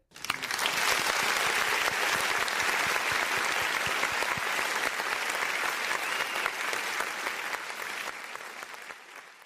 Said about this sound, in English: I got to give her a special applause today